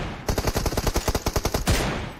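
Sniper rifle fire from M24 and AWM in a battle royale game: a rapid, regular string of about twenty sharp shots over under two seconds, followed by a louder single blast, with no talk.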